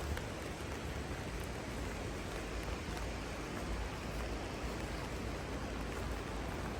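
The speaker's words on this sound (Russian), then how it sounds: "Дождь, блин, моросит." Steady, soft hiss of light drizzle falling continuously in the mountains near Sochi, a fine even patter with no other sounds standing out.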